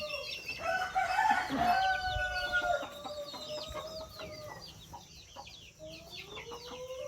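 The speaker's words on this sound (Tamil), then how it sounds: "ஓகேவா 15 கோழி நிற்கிது" Chickens in a coop cluck busily in a close, loud burst, with a rooster crowing among them. Scattered calls and clucks carry on more quietly through the rest of the stretch.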